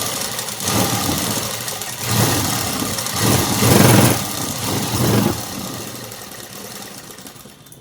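A sewing machine stitching lining cloth onto a blouse, a loud, close, steady motor whir that swells in several surges before easing off.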